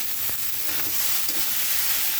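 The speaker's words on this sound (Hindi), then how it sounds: "अब इसको अच्छी तरह से मिलाएंगे।" Soya chilli fried rice with Ajinomoto is stirred in a hot pan, a loud steady sizzle of frying with faint scraping strokes of the spoon running throughout.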